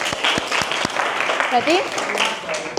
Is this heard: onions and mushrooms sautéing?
no